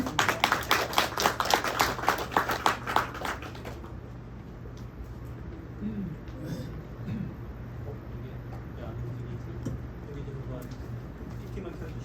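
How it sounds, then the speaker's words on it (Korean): A conference audience claps in a steady, rhythmic burst to welcome a presenter, then stops after a few seconds. A quiet hall hum and faint room murmur remain. "큰 박수로 모시겠습니다"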